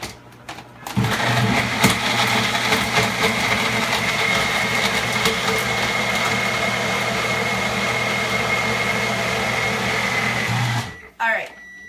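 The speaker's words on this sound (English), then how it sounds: "I'm going to mix it here in our magic bullet" A Magic Bullet blender whirs steadily for about ten seconds, mixing chocolate Shakeology, with a low motor hum and a broadband whine that stop abruptly near the end; speech-like sounds mingle with the motor.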